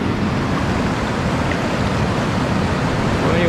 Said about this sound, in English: Here's the portion of the rapids at Simpson Rapids. This is kind of like a falls.